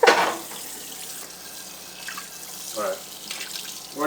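A tap runs steadily into a sink while dishes are scrubbed beneath it, giving a continuous close wash of water broken by brief splashes and clatter, with a voice briefly heard.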